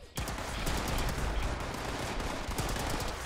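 B3325 plasma gun in Fallout 76 firing on full automatic, a dense, unbroken stream of rapid loud shots that continues for the whole stretch with no pauses.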